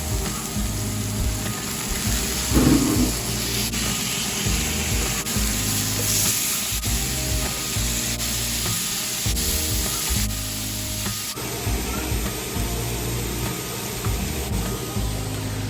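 Pork chops sizzling on a hot griddle, a steady loud hiss and crackle of frying fat lasting throughout, with a brief burst of extra clatter as the meat is flipped early on; no talking.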